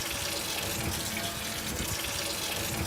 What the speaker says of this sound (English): And I'll run the water slowly.